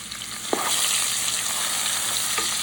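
Onions and peppers frying in leftover bacon grease in a pot for Southern fried cabbage, a steady close sizzle with a couple of brief stirring knocks.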